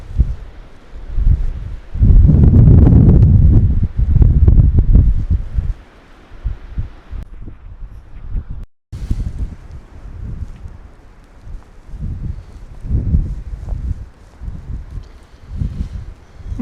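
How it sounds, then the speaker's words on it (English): Wind gusts through the trees around a campsite, rising and falling in loud rushing bursts with quieter lulls between them, buffeting the microphone at times, with no voices. "I leave you with the views of the windy trees."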